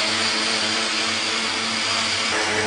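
A kitchen blender whirs loudly and steadily, mixing a chocolate frappé with chestnuts and a pinch of cinnamon, a dense continuous motor whine close by with no talking.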